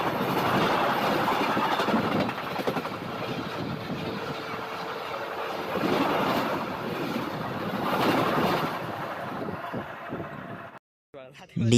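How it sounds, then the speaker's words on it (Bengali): A local train pulls into Khirai station with a rolling rumble, wheel clatter and a sustained tone, while people talk over it nearby; the sound cuts off briefly near the end. "ওদিকটা একটা লোকাল ট্রেন ঢুকছে"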